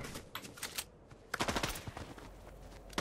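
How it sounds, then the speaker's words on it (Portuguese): Gunfire in the Fortnite video game rattles in quick bursts of shots, sharp and close, with short pauses between volleys. "Quem tá atirando em quem?"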